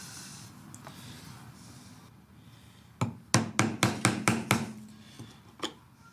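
A chisel struck with a mallet chops a mortise in wood clamped to a workbench, making a run of seven sharp, evenly spaced knocks with one more blow after a pause, close and loud over quiet room tone.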